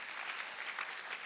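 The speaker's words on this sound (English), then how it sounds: "come on, clap and thank God today" A church congregation claps during a sermon, a continuous, dense patter of many hands. It sounds soft and a little distant and stays steady without a break.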